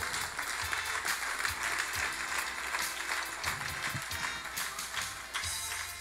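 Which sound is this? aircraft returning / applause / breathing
applause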